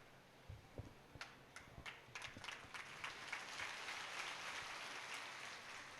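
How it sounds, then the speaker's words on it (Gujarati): An audience at a temple anniversary gathering greets a speaker with applause that opens as a few scattered claps and builds into a sustained, moderately faint wash of clapping. "જોરદાર તાળીઓના ગડગડાટથી વધાવીએ આ સંસ્થાના પ્રમુખ અને સમર્થ લોક સાહિત્યકાર મુરબ્બી શ્રી માયાભા"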